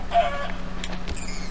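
A chicken in the Minecraft video game gives a few short clucks, fairly faint over a low steady hum.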